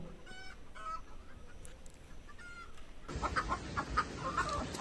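Domestic hens clucking near a hidden clutch of eggs, a few short calls at moderate distance, then louder, busier rustling and clucking close by in the second half.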